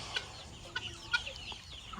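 Free-roaming chickens cluck quietly at a distance, three or four short clucks spaced about half a second apart over faint background noise, with no talking.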